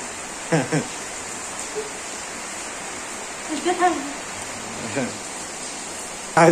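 Steady rain pours over a village on a stormy day, a continuous broad hiss with a few brief voices talking over it.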